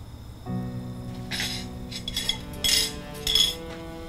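Dishes and plates clink together in a home kitchen, with several bright, sharp clatters of glass and ceramic over a low steady hum, fairly close and without talk.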